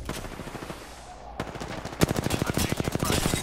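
Rapid automatic gunfire in the shooter game Apex Legends, with a sharp burst then a sustained, evenly spaced string of loud close shots, preceded by quieter distant fire, with no voices.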